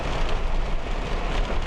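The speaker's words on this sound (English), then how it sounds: "It's nearly blinding rain right now" Heavy, nearly blinding rain pounds down during a drive on flooding roadways amid a thunderstorm, a dense, steady hiss and roar that stays loud and even throughout, with no distinct thunderclap and no voices.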